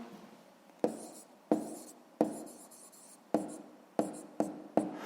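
A pen writes out a sixth-grade math problem in short, crisp strokes and taps, about eight distinct scratches in quick succession, close and quiet with no talking.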